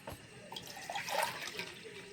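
Water pours softly into a cooking pot for coconut-milk mutton pulao, a quiet, brief splashing trickle with no voices.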